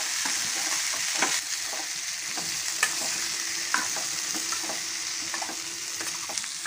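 Jackfruit seeds fry with garlic and chili powder in a pan, giving a steady bright sizzle with repeated scraping stir strokes and small clicks throughout. No voices.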